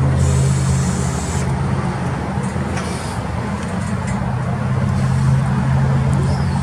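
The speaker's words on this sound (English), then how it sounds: "He's going to hit the side shift for us." A 2008 Yale GLP060VX LP gas forklift with pneumatic tires runs its side shift: a loud, steady engine drone with a hydraulic whine that rises near the start and again toward the end, and no talk over it.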